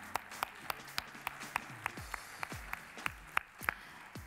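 An audience at an afternoon awards ceremony applauds a company's named representative, sparse, sharp individual claps in a roughly steady rhythm, moderately loud and echoing slightly in a large hall, with no talk over them.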